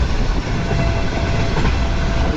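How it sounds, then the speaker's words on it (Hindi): Shalimar Express train running at top speed, a loud, steady rumble and roar of the wagons with faint clickety-clack of wheels on rails, continuous and close throughout with no talk. "अब तक की सबसे टॉप स्पीड पर आ चुकी है ट्रेन"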